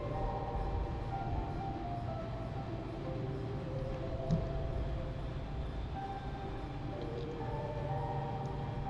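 A train runs in a planet terraforming video game, giving a steady, dense low rumble and rolling clatter at moderate level throughout, with faint tonal hums over it and no talking.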